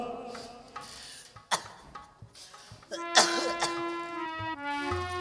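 An elderly mother coughs several times in a short burst, the harsh coughs close and fairly loud, with tonal background music running underneath in a dramatized scene.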